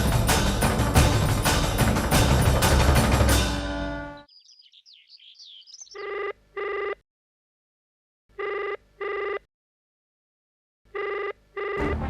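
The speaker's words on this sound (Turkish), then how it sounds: "Bu telefon sabahtan beri çalıyor." A telephone rings in repeated double bursts separated by pauses, coming after loud music fades out and a brief warbling tone.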